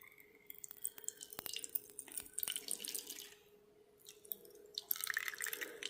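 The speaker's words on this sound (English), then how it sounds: "Fill up the water dish." Water poured into a tarantula's water dish, a light trickling and dripping that comes in two bursts with a short pause between, close and fairly quiet.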